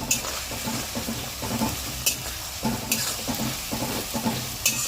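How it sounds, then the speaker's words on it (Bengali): Ginger garlic paste stirred and fried in a pan for a Bengali chicken curry: a steady hiss of frying under repeated scraping strokes of a spoon, with a few sharper clinks against the metal. "এবার আদা রসুনটাকে একটু নাড়াচাড়া করে আমি পেঁয়াজ বাটাটা দিয়ে দেবো।"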